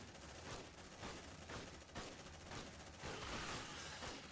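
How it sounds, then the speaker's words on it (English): Sustained automatic gunfire in the Aliens: Dark Descent video game, rounds smacking into a metal ramp in rapid bursts, with a dense, loud barrage that keeps pulsing and swelling without letting up. "That's bullets actually hitting the ramp rather than actually going over it."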